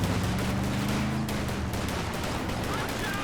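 Mortar and other gunfire from a Company of Heroes 2 3v3 match on Port of Hamburg, dense and continuous battle noise with repeated booms and shots, loud throughout with a low rumbling layer.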